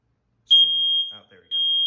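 A Kidde smoke detector under test gives a loud, piercing electronic tone that holds for about half a second, dips briefly as someone speaks, then sounds again close by.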